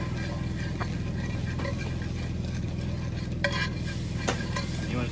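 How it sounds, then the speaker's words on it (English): A butter and flour roux being stirred in a pan over a campfire: steady scraping and stirring under a soft continuous sizzle, with a few sharper clicks of the utensil against the pan. "You want to stir, make sure you get any clumps, make sure you get them all out."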